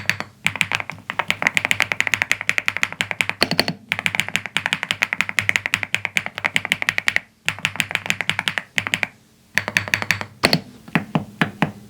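Fast, continuous typing on an Epomaker Galaxy 100 Lite full-size mechanical keyboard, close-up, its dense clacky keystrokes running in bursts separated by a few brief pauses.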